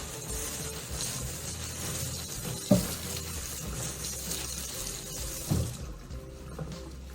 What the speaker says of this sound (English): run some water over them, move them around